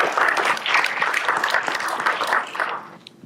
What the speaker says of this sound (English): Can I get a round of applause for My Basin and the Government Affairs Committee?